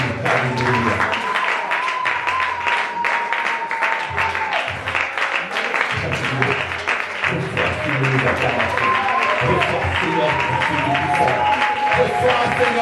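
A church congregation claps and cheers in steady applause as voices call out praise over it, with continuous crowd noise and overlapping acclamation.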